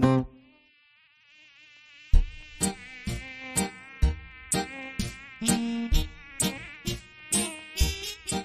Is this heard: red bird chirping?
no